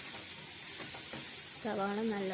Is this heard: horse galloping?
no